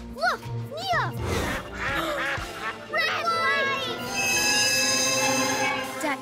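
Cartoon ducks quacking on railway tracks, several bright rising quacks near the start, followed by mixed train noises and a sustained tonal squeal, with a character's voice talking over part of it.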